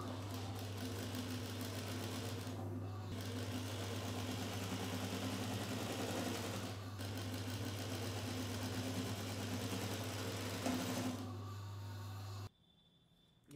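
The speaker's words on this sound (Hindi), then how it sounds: "अब इसमें मैं टॉप सिलाई लगा लेता हूँ इस तरह से।" Sewing machine running steadily while top-stitching the seams of an old bag, a constant motor hum with a rhythmic needle clatter that pauses briefly a few times before stopping near the end.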